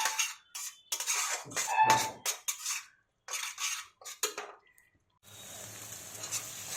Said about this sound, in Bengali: মশলাটাকে ভালো করে কষিয়ে নেব যতক্ষণ না এটা তেল ছেড়ে দিচ্ছে